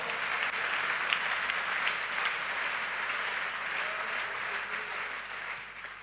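A church congregation claps together in worship, a dense, sustained wash of applause heard at a moderate distance with no break over several seconds.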